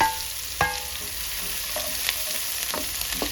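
Chopped onion and ginger paste frying in a pan for a bottle gourd and fenugreek leaf curry, a steady close sizzle broken by a few sharp stirring scrapes and clinks.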